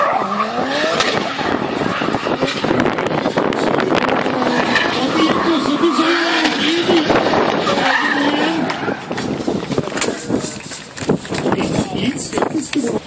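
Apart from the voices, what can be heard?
drift race cars, 500-800 horsepower engines, tires skidding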